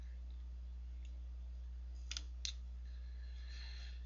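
Two quick, faint computer mouse clicks sound close by over a steady low electrical hum, with no talking.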